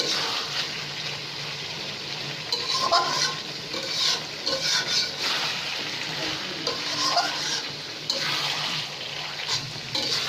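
Mutton curry being stirred and sautéed in a pan gives a close, wet sizzle with repeated scraping swells of spoon against metal, a steady cooking hiss between strokes, and no voices.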